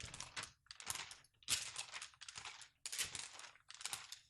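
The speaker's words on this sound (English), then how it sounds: "The sound of my notebook" Notebook paper rustling and shifting in a string of quick, crisp bursts separated by short pauses, close and fairly quiet, with no voices.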